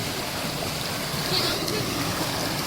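River water rushing over rocks outdoors, a steady broadband wash of flow heard close and moderately loud throughout, with a voice briefly audible over it.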